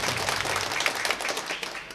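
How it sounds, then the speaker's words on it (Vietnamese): A church congregation at a Mass applauds a visiting priest, a fairly quiet but steady patter of many hands clapping in a reverberant space. "Chúng con xin nộp một tràng pháo tay để cảm ơn sự hiện diện của cha Phêrô."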